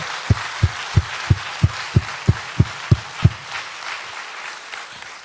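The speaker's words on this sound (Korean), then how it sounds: "박수로 한번 할까요?" A church congregation claps in unison during a sermon, about ten evenly spaced, sharp beats roughly three per second, then the rhythm fades into a softer scatter.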